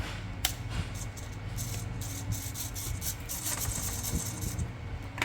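A small electric model plane motor, driven by an Omnibus F4 Pro V2 flight controller, runs steadily on throttle with a constant close whir and a faint high whine, with no talk over it.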